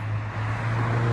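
Steady street traffic rumbles as someone walks along a city road, a continuous low roar of passing vehicles with no distinct events.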